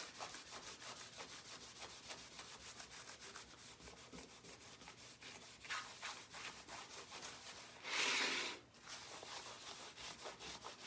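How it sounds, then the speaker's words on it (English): A waxed craft surface being buffed by hand, a faint repeated rubbing and swishing rhythm with one louder brief scrub near the end. "This surface, when you wax it and buff it, it gives you such a nice finish."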